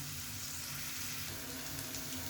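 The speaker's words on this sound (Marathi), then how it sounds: "कांदा चांगला एक 5 मिनिटं सॉटे करून द्यायचा आपण, 4-5 मिनिटं" Chopped onion sautéing in a pan with a dense, continuous crackling sizzle, steady and close throughout.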